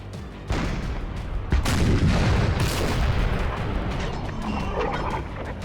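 Four 8-pounder cannons firing in Napoleon: Total War, heavy booms and crashing blasts in quick succession over a rumbling battlefield din, loud and close.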